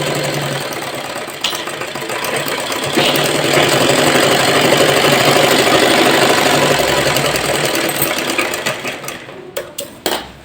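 Electric sewing machine running a long seam on a straight kurti, a fast steady mechanical whir and chatter close by that fades and breaks into short stops near the end.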